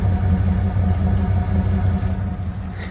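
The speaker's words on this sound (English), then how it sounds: "You can listen to the motor's internals working." A stock 302 V8 in a Mercury Cougar idles with a steady, loping, low rumble, recorded close and loud with no talk.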